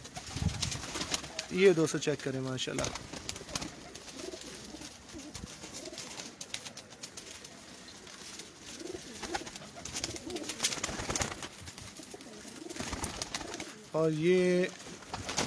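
Pigeons coo in a breeder's loft at a breeder's place in Bhikhi, Sheikhupura district, with soft bursts of cooing near the start and end while someone talks over much of it.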